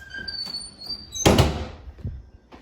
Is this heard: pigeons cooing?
no